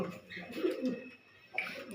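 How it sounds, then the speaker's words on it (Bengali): Low, throaty coos from pigeons kept for sale come in soft bursts against a muffled background, with a brief brighter noise near the end. "পায়রাগুলো দেখুন"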